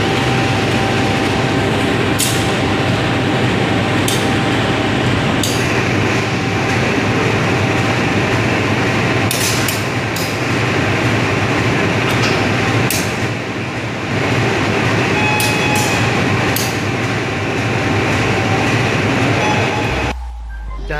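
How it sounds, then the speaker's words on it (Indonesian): Loud, continuous rumble of a train at a station, with scattered metallic clanks and bangs as the locomotive couples to the cars and they jolt together. "mari kita lihat jika penyambungan kereta dengan lokomotif."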